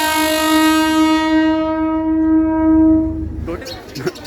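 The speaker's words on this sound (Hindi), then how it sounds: "9:30 पर हमारी ट्रेन यहाँ पे आ रही है जयनगर रेलवे स्टेशन के प्लेटफॉर्म नंबर 1 पे" A passenger train arriving at platform number 1 of Jaynagar railway station sounds a long, loud, sustained horn blast, then fades into rumbling and platform bustle with brief voices.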